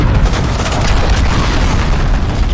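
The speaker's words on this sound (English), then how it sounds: "Enemy cruise missile, take off." A cruise missile explosion in Call of Duty Modern Warfare, a loud, deep booming blast with continuous rumbling roar and crackle, very close and sustained throughout with no speech.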